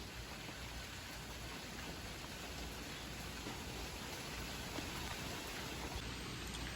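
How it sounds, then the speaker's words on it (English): Heavy morning rain pours steadily outside, a dense, even hiss of drops on surfaces with no pauses, fairly quiet and distant-sounding, and no voices present. "It is pouring rain this morning, if you can see."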